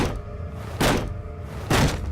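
A hammer strikes wooden boxes twice in the video game Penumbra: Overture, two dull heavy thunks about a second apart, set against a low murky ambient background.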